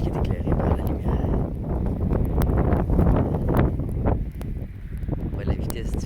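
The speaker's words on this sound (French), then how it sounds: "On voit la vitesse du vent et comment il est chargé de neige." Strong wind loaded with fresh snow buffets a handheld microphone outdoors, a heavy continuous roaring rush with gusty surges, while someone talks over it.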